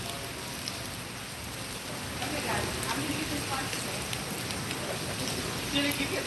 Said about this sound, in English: the rain's picked back up